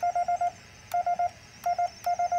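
Short bursts of a steady Morse-style tone come in on a paraset replica radio receiver, beeping in quick groups of four or so with brief pauses between, over a faint background hiss.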